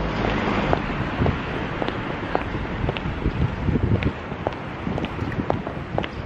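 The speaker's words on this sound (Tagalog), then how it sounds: "Super lamig talaga ng hangin." Cold wind gusting across a microphone on a Shibuya street in Tokyo, a steady broadband rumble with buffeting low-end bursts and faint city noise throughout.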